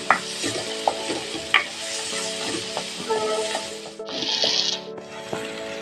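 A spatula scrapes and stirs a sizzling mixture with green chillies in a pan, with repeated rasping strokes over a steady frying hiss, under a faint tonal background.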